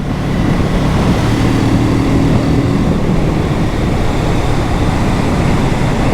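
Kawasaki Z650 2023 motorcycle with a 270-degree crank engine pulling steadily while ridden, a loud continuous drone with a low engine hum under heavy wind rush and no talk.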